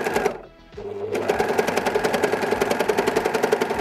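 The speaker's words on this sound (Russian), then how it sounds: "Буду стачивать без сметки." A domestic sewing machine stitches fabric for a hat and snood, a loud, close, fast steady clatter that stops briefly, then restarts and runs evenly.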